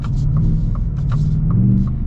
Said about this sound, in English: Just listen to this truck